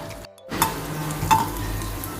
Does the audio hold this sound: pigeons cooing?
no